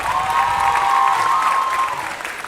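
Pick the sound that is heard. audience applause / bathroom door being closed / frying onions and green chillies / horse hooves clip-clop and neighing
audience applause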